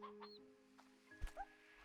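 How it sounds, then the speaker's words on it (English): Chickens in the video game Slime Rancher 2 give a few short, soft clucks over a quiet game background, with one brief louder thump in the middle. "There are different kinds of chicken."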